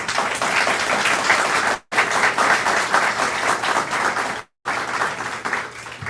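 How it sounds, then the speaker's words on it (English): Audience applause at a Tri-State Spiritist Federation gratitude event: steady, dense clapping from a crowd, sustained and fairly loud, with two abrupt brief cutouts. "can we give them a round of applause?"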